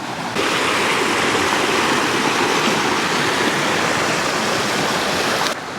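A small waterfall pours into a rocky stream, giving a loud, close, steady rushing roar that holds evenly throughout with no voices.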